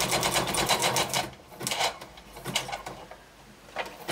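A sewing machine stitching fabric at high speed, a close, loud rapid mechanical whirring and clacking that speeds up and slows in short bursts, with the machine audibly shaking.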